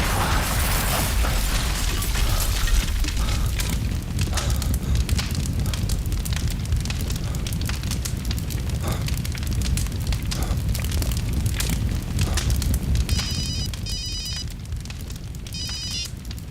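A car bomb explosion and the roaring fire that follows in a TV crime serial scene: dense, loud crackling and bursting with popping blasts that fill the whole stretch continuously, with no talk over it.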